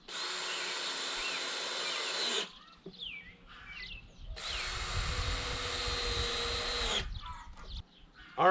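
Power drill driving decking screws into a wooden Warre beehive, in two long steady whirring runs of about two and five seconds, with quiet gaps between where birds chirp faintly.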